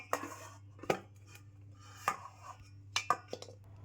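A cooking pot holding a rice flour mixture is handled and lifted off a stove, giving several sharp metallic clanks and clinks spaced apart, close and fairly quiet.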